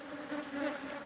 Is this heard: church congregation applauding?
no